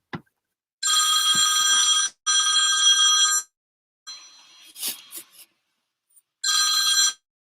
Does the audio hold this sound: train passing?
no